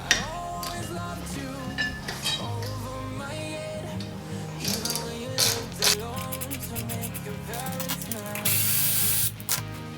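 A hand ratchet clicks repeatedly as it works out a small T30 locking screw on a Cadillac CTS-V brake rotor, giving close, uneven bursts of ratcheting interspersed with metallic clinks.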